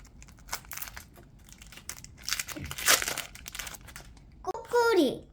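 A Pokémon Inferno X booster pack's foil wrapper crinkles and tears open up close, loud rustling bursts mixed with a voice talking over it.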